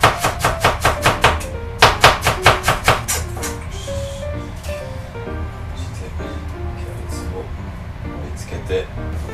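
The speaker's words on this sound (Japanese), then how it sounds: "キャベツを切っていきます" A knife chops cabbage on a cutting board in a home kitchen, a fast run of about a dozen crisp, close, evenly spaced cuts, then quieter irregular kitchen clatter while a person talks.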